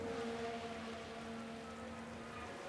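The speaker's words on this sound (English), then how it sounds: "But the rain is really coming down" Steady rain pours down in the racing game F1 Manager 2023 during the Canadian Grand Prix, a constant close hiss with low engine drone beneath it and no talking.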